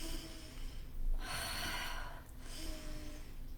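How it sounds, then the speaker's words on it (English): A guided deep-breathing exercise, with a full breath drawn in and then exhaled out: two close, airy breath sounds of moderate level, soft and near, with no talking. "Last breath in, we're breathing fully in, exhaling out"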